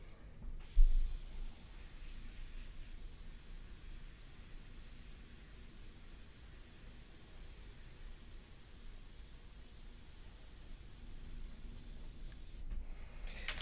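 Airbrush spraying India ink with the air kept on continuously, a steady close hiss of broadband noise lasting throughout and stopping briefly at the end, with no talk.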